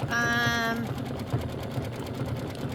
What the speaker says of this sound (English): we're gonna stitch this swimsuit detail